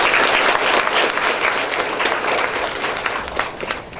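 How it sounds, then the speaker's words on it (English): A large audience at a college scheme inauguration ceremony breaks into loud, dense applause for a guest, sustained and even for several seconds before tapering slightly at the end. "So, a big round of applause for Sir."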